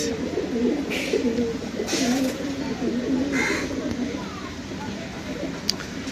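Pigeons coo close by in low, throaty, rolling calls that repeat steadily over a faint background hum.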